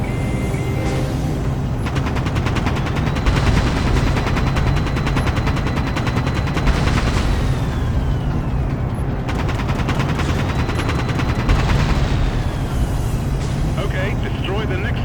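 Rapid, continuous automatic cannon fire from a dropship in a video game rattles loudly over a rumbling engine drone, with bursts rising and falling across the stretch.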